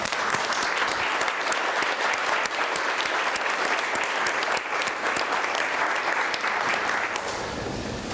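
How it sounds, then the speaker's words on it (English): An early-morning audience at a university leadership institute series bursts into a sustained, dense round of applause, loud and even throughout and tapering slightly at the end. "So would you please join me in celebrating her with an early morning round of applause."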